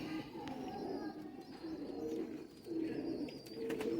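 Banded pigeons coo softly and repeatedly nearby, low rolling calls overlapping in a steady rhythm against faint background noise.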